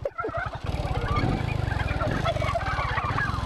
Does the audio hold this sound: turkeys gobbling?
yes